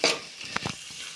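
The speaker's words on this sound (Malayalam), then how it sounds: "നമുക്ക് സവോള അരിഞ്ഞു വെച്ചത് ഇട്ട് കൊടുക്കാം. അപ്പോൾ നന്നായിട്ട് ഇളക്കി ഒന്ന് വഴറ്റിയെടുക്കാം." Chopped onions with a pinch of salt being stirred in a pan with butter, a brief scrape and soft sizzle with a few light clinks, short and fairly quiet.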